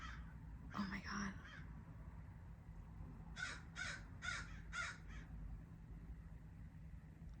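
A flock of crows, more than twenty birds, flies overhead outdoors: one caw, then after a pause a quick run of about five harsh caws, moderately distant over a low steady background rumble.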